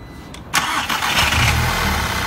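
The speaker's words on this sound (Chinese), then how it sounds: "我们现在发动引擎给大家看一下" A car engine fitted with Powerflex engine and transmission mounts cranks briefly and catches, then settles into a loud, steady idle rumble close by, with no voices.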